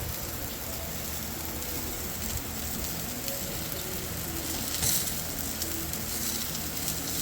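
Food sizzling in a hot pan at home, a continuous crackling, hissing fry noise that stays steady and fairly close throughout with no pauses.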